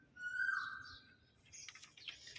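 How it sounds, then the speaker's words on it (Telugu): An Asian koel sings in a home garden, one clear whistled call rising and falling, heard at a moderate distance, followed by softer chirps and faint rustling in a quiet outdoor setting. "కోయిలమ్మ చూడండి ఎంత చక్కగా పాట పాడుతుంది"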